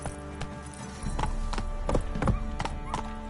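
Roach, a horse in The Witcher 3: Wild Hunt, galloping with a steady clip-clop of hooves under game music, the hoofbeats growing louder partway through.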